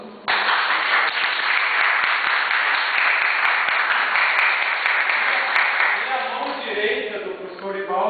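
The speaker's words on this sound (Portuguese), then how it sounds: "os aplausos." Audience applause at a foundation's 21st anniversary ceremony: dense, loud clapping that starts abruptly and holds steady for several seconds, then thins out as voices begin speaking over the tail.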